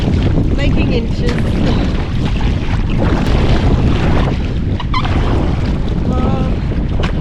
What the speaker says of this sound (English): we've just hit a headwind, and these boats are a horror to paddle in headwind or any wind